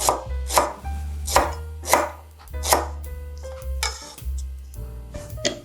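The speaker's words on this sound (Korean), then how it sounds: "양파 반개, 큰 걸로 반개입니다. 썰어서 넣어주시고요." Half a large onion being chopped with a knife on a cutting board for kimchi, about seven crisp, evenly spaced chops close up, with no talking.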